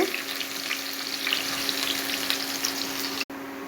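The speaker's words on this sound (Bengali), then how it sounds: "আমি ফ্রাইয়ে আগের পেঁয়াজ দিয়ে দিচ্ছি" Onions fry in oil in a pan at the start of cooking mutton. A steady, close crackling sizzle runs unbroken, then cuts off abruptly just before the end.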